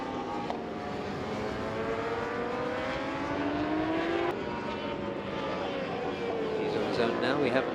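A racing motorcycle roars past at Buriram circuit during Asia Road Racing qualifying, its engine pitch climbing and then dropping sharply as it brakes. A commentator talks over the loud, continuous engine note.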